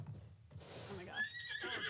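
A horse in a video game whinnies loudly with a rising, shaky neigh, preceded by a brief burst of noise and rustling.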